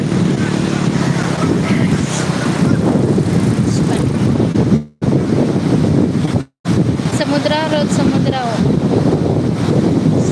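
Sea waves and wind at a seashore make a continuous loud roar of surf and gusting wind on the microphone, with two brief dropouts and faint voices in the background.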